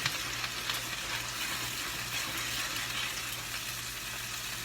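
Lemon butter sauce boils in a skillet with chicken, giving a steady, dense bubbling sizzle that stays even throughout, with no talking.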